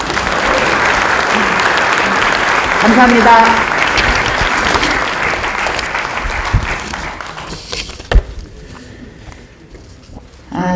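Members at a party caucus assembly in Korea's National Assembly applaud loudly and thickly for about seven seconds before the clapping thins and dies away; a voice briefly speaks near the end.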